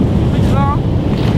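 Strong wind buffets the microphone on a boat trip off Zanzibar, a loud steady roar with low rumble, a brief faint tonal whine in the middle and no talk.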